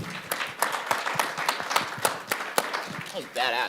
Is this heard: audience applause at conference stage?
yes